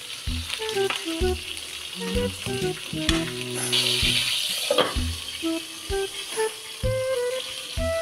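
Garlic and then onion frying in a pan, a steady close sizzle with clattering stirring knocks and tonal utensil scrapes over it, alone without talk.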